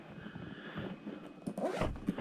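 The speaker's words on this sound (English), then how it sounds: "It all zips up" The zipper on a Steam Deck carrying case drawn closed in a few short rasping pulls, close to the microphone, with handling noise between them.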